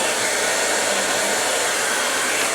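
A hair dryer blows steadily and loudly in a salon while hair is brushed dry, a continuous broadband whoosh with no pauses and no talking.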